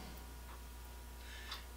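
A fluorescent light fixture gives off a steady low electrical hum with faint buzzing, continuous and quiet throughout, with a few light ticking sounds near the end.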